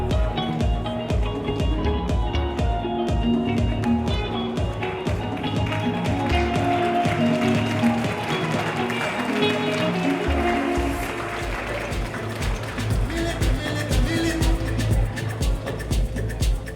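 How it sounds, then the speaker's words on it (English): An audience applauds at a Miss Chinese Montreal beauty pageant, a dense, steady wash of clapping that fills the hall at close range and holds for the whole stretch, with voices faintly mixed in. "Let's give them another round of applause."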